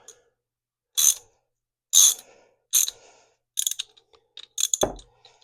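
Ratchet wrench tightening the spring nuts on a Gravely slip clutch: five short bursts of rapid ratchet clicking about a second apart, close and distinct, with a brief metallic clunk near the end.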